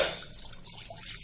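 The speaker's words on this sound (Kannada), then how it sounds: "She has kept a vessel and she is adding 3 glasses of water." Water is poured into a cooking vessel while preparing mudde, a close, liquid gurgling and splashing that starts strongly, then settles into a softer trickle, with no talking.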